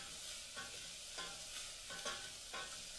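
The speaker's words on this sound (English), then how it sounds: "Now these you're going to want to go ahead and stir until they start to brown." Onions sizzle steadily in a frying pan while a utensil stirs them, a constant close hiss broken by several soft periodic scraping strokes.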